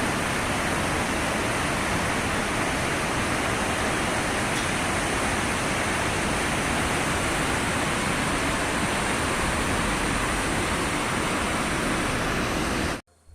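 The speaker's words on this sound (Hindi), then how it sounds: "यह नदी का गॉर्ज है।" A river rushes through a gorge near Pokhara, Nepal, a loud unbroken roar of water that holds steady before cutting off abruptly at the end.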